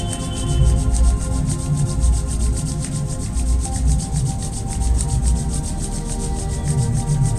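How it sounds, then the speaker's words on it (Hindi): Two hands rub briskly together in a steady, continuous, fairly loud friction sound that keeps going without a break, with no talking. "अब अपने दोनों हाथों को रगड़िए।"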